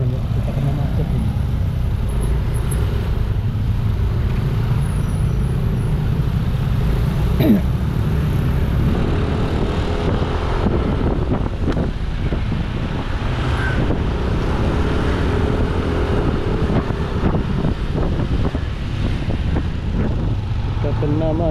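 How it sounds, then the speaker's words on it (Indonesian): Congested road traffic on a Bali street on the way from Denpasar to Ubud, with loud continuous engine and motorbike rumble nearby, wind buffeting the microphone, and occasional voices mixed into the steady din. "Macet teman ya, kita kena macet ini."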